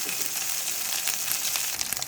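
Drumstick (moringa) pieces fry in hot oil for a tomato curry, giving a steady, close, dense sizzle and crackle that holds evenly throughout with no voices.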